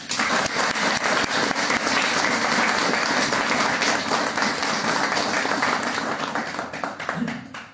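An audience at a workshop talk applauds the speakers with sustained, dense clapping that holds steady for several seconds and thins slightly at the end, with a faint voice briefly audible near the close.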